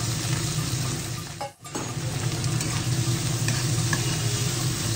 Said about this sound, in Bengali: পেঁয়াজটা একটু লালচে লালচে ভাজা হবে